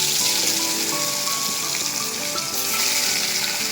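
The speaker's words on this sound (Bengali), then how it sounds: "সবার আগে কাতলা মাছটা ভেজে নেবো" Katla fish fries in hot oil with a loud, dense, continuous sizzle and spatter that carries on without a break, close up and with no speech.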